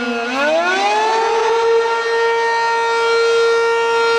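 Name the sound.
Cap 15 siren sounding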